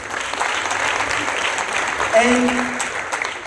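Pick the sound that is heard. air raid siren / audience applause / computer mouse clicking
audience applause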